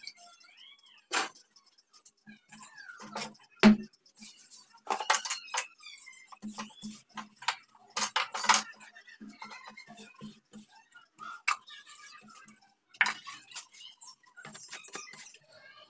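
Dishes being washed by hand in a home kitchen after a big lunch: scattered close clinks and clatters of steel utensils and pots, irregular bursts with quiet gaps between, no talking.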